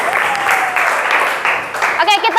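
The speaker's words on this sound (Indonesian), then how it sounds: "Tepuk tangan buat Adam" Classmates clap for a student in a classroom, a brief scattered burst of applause that fades before a voice comes in at the end.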